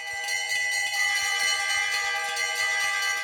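Temple bells ring in a dense, continuous metallic clangour, steady and loud throughout, with repeated strikes blending into a sustained shimmer.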